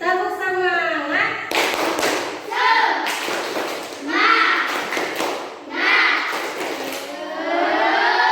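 Students in a classroom perform a rhythmic spirit clap: bursts of sharp group claps in a steady chant-like pattern, mixed with children's voices calling along, after a teacher's brief spoken lead-in.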